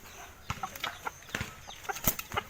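Chickens at a poultry pen cluck in quick, irregular bursts close by, several short calls overlapping at moderate volume against a quiet outdoor background.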